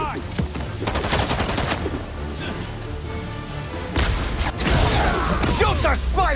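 Enemy gunfire in the superhero game Marvel's Spider-Man 2 comes as loud, rapid bursts of automatic shots and mechanical clatter. Two heavier volleys bracket a quieter stretch, with game voices shouting over them.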